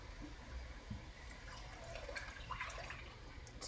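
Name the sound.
pouring bean cooking liquid into a pot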